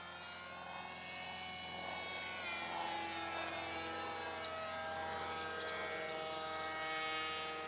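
A 1/20 scale radio-controlled F-117 Stealth Fighter propjet hovers slowly, its electric motor and propeller giving a steady, loud buzzing whine that holds throughout with slight swells in pitch.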